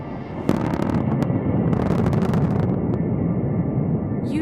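Blast at a diamond ore mine in Yakutia, a dense, sustained roaring rumble with scattered sharp cracks, loud and close, with no voices.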